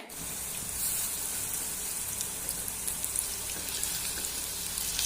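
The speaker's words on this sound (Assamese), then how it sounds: "মই বাকি থকা চবকিটাও ভাজি ল'ম আগৰ দৰে" Steady, dense sizzling and crackling of potato chops frying in hot oil, continuous and fairly close, with no voices.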